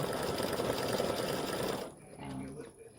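An embroidery machine stitching a crescent moon and flowers design gives a fast, close, continuous rattling needle stitch that cuts off, followed by a quieter softer hum.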